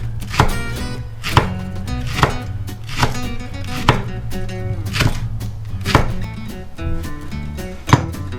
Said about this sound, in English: Then we'll just cut this into rings.